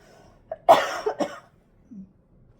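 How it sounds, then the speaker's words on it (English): A few harsh coughs in quick succession, close and loud, followed by a faint throat sound and quiet. "Just gonna keep coughing"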